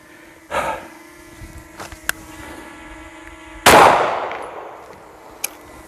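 Pistol shots during a shooting drill at a range, a few sharp cracks spaced apart with one much louder close blast that rings out and decays, plus a couple of faint distant reports.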